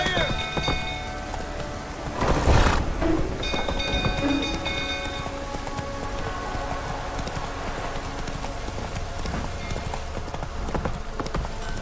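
Hoofbeats of Roach, a horse in The Witcher 3, clip-clopping steadily at close range through the whole stretch over a rainy, ambient game soundscape, with a brief louder burst near the start.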